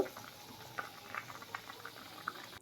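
Fried fish roe fritters simmering in a dried chili curry, a soft continuous bubbling and gurgling broken by small pops of bursting bubbles, close up and fairly quiet, with no talking.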